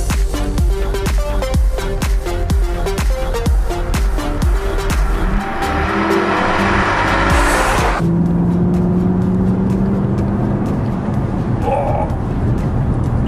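A Mercedes S63 AMG, a large powerful luxury saloon, accelerates hard with a loud, rising engine note through several gear changes, heard close up throughout.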